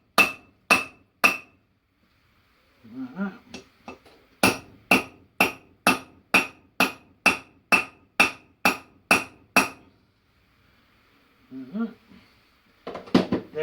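Hammer knocking wheel studs into the rear hub of a Chevrolet Matiz: two sharp metallic strikes, then a long even run of about a dozen ringing blows, brief speech between the groups.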